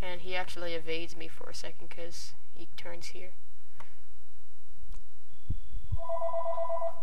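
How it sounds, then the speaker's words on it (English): A phone rings faintly in the background with a repeating electronic tone, starting after a man's speech ends. "my phone's ringing in the background."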